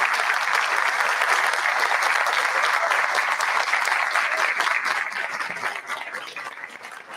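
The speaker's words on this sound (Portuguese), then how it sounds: "Mais uma vez, uma salva de palmas a todos." An audience at a ceremony opening applauds after a string orchestra performance, a broad, sustained wash of many hands that stays full and loud before thinning toward the end.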